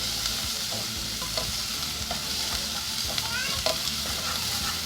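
Ají especial paste sizzling in a pot for Peruvian sopa a la minuta, a steady close hiss of frying punctuated by light stirring taps and scrapes.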